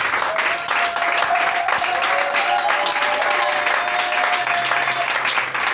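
A church congregation at a French-speaking teaching service claps and cheers for Jesus, sustained dense applause with a bright crowd roar throughout, a preacher's voice faintly audible over it.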